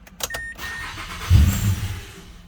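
A Mazda CX-9 engine cranks after a brake booster installation, a few clicks giving way to a low rumble as the motor catches and settles into a steady idle, heard up close without talk.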